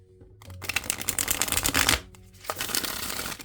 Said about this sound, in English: So let's shuffle this real quick.